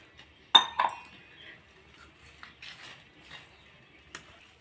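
A ladle clinks and scrapes against a bowl while stirring finger millet dough with boiling water: two sharp knocks up front, then softer, scattered taps and scrapes, close by with no talking.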